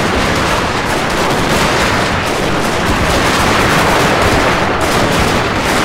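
Massed Gatling guns firing nonstop in the strategy video game Total War: Shogun 2, a dense, loud, unbroken roar of rapid gunfire that fills the whole span.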